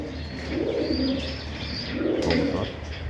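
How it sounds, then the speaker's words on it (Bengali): A hand-raised pet pigeon coos in two soft, rolling, drawn-out phrases close by, with faint background noise and no talk. "কবুতর, এটা আমার হাতে পালা কবুতর"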